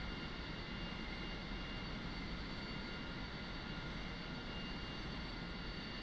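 Aermacchi MB-339 jet engine at slightly reduced throttle in the DCS World flight simulator, a steady, even roar with a constant whine that holds level throughout with no voices.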